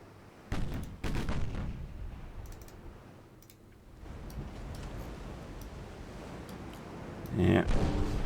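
Naval warfare game in which a torpedo strikes a transport ship, producing a dull, booming blast among a few sharp thuds, with steady ambient rumble and quiet keyboard clicks.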